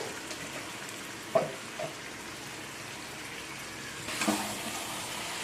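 Chicken frying with spices in a pan for biryani, a soft, even sizzle close by with an occasional scrape of stirring, fairly quiet throughout.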